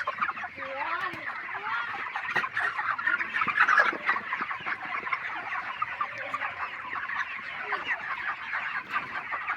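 A flock of poultry chickens clucks continuously in a dense, chattering chorus outdoors in the sun on a cold day, steady and fairly near, with the odd louder squawk standing out.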